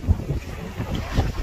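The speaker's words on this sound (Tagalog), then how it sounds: "lakas na hangin, grabe." Strong cold wind buffets the microphone beside an outdoor pool, producing low, uneven rumbling gusts with a couple of sharp thumps and no voices.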